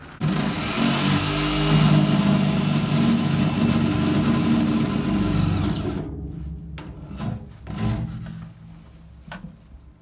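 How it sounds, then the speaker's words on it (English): A jigsaw cuts a circular hole in metal, a loud, close, buzzing rasp running steadily for several seconds before stopping and giving way to a few short clicks and knocks. "I'm just going to try and do it with the jigsaw."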